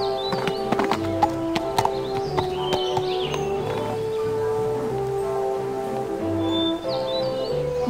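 Horse hooves clip-clop steadily on a trail in the Barbie Riding Club video game, a close rhythmic walking gait with faint birdsong and light rustling behind it.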